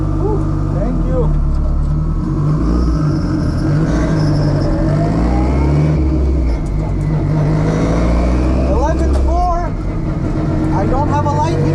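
A 777 HP turbocharged 8th gen car pulls hard down a drag strip, its loud engine note climbing and shifting across gears, with people talking and exclaiming over the roar.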